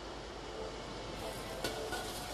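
Onion frying in coconut oil in a hot wok gives a steady, dense sizzle throughout, with a brief sharper crackle partway through; no voices.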